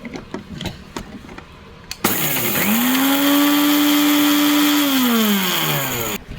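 A mixie mixer grinder grinding coconut for Kerala chicken thoran switches on abruptly with a loud, steady motor whine and grinding rattle that holds for about four seconds, then cuts off; light kitchen clatter comes before it.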